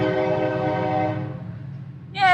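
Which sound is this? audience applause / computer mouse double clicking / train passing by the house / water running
train passing by the house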